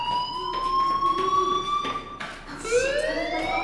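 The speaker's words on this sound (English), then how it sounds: "Hey, do you hear that fire alarm?" A fire alarm wailing in the video game Life is Strange, a loud rising and falling siren tone that sweeps upward and repeats with no voices over it.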